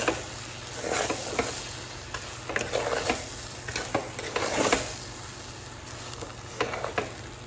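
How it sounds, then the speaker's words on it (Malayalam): Bread chili is stirred in a pan with a spatula, giving repeated scraping and soft tapping strokes in an irregular rhythm over a faint sizzle and low hum. "എന്നിട്ടൊന്ന് നന്നായിട്ടൊന്ന് ഇളക്കി കൊടുക്കാം."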